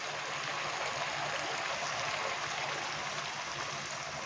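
About half a cup of water poured into a pan of roasting pepper chicken masala, making a steady, even rushing splash that runs the whole time at moderate loudness, with no talking.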